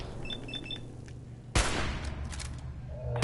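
A .308 rifle firing in Fallout 4: after quiet game ambience with a few faint electronic beeps, a single loud, sharp shot cracks out and leaves a lingering rumbling echo that slowly fades.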